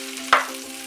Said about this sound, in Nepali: यसलाई चलाउँदै मैले 3 मिनेट जति आलुलाई फ्राई पनि गरिसकेँ